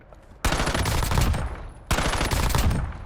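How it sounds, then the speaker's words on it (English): An LC10 submachine gun in a video game fires two sustained automatic bursts at a 25-meter target, loud and close, with a short pause between them. "that's the LC10 beaming that 25-meter target"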